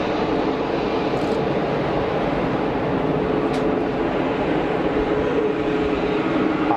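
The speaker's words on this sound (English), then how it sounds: "we've got an EasyJet rolling as well" An EasyJet airliner rolls for takeoff at Geneva Airport, a steady broadband engine roar holding constant and fairly loud throughout, with a couple of brief higher hisses over it and no talk.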